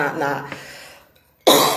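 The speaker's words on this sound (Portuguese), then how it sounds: "começou a me dar uns pigarros" A person clears their throat and coughs during a live broadcast, a burst of rough throat sounds following a stretch of voice that trails off into a short silence, then a loud abrupt cough up close.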